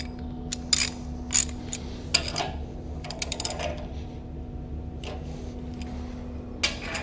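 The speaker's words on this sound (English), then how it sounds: "tweak leveling bolts evenly, counting turns, half, quarter, eighth, doing it the same on both sides" Leveling bolts being turned on an F10XS machine during installation give off sharp ratcheting clicks in short irregular bursts over a steady low mechanical hum.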